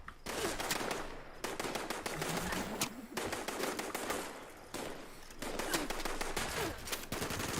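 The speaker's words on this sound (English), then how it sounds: "Who's shooting me now?" Rapid bursts of automatic gunfire from the video game Fallout 76 come loud and dense, broken by a few brief pauses, with no talk over them.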